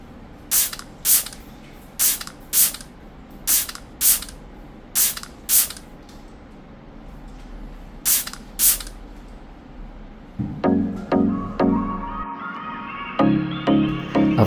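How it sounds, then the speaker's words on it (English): A pet-friendly air freshener hisses out in about a dozen short, sharp bursts at a steady rhythm in a grooming area, close to the mic. Near the end, a few clunks and a louder mechanical rattle follow. "I almost forgot to spray the pet-friendly air freshener"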